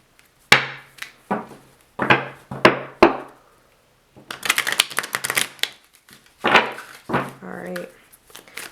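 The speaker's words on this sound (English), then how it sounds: "One more good shuffle." Quick bursts of tarot cards being riffled and shuffled, several crisp flurries with brief pauses between, close and fairly loud, with no talking.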